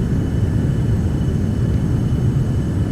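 A Beechcraft Premier 1A jet climbing after takeoff in X-Plane 11, heard as a loud, steady low engine roar and cabin rumble without a break.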